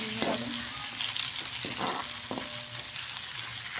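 Hotel-style sambar in a pan being stirred quickly, a continuous sizzle and bubbling with several distinct scraping strokes of a spoon, close and fairly loud, with no talking.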